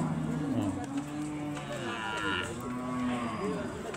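At a cattle sale, a cow gives a long, low, fairly close moo amid continuous talk and bargaining voices of the crowd.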